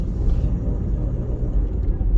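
A car drives through city streets from Half Way Tree toward Lady Musgrave Road, its steady low engine and road rumble continuous and close, with faint traffic noise around it.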